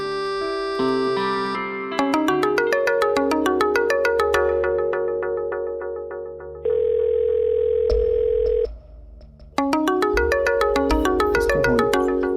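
A mobile phone ringtone plays loudly and close in a domestic drama scene, a bright repeating electronic melody of tonal beeps that pauses briefly near the end before resuming.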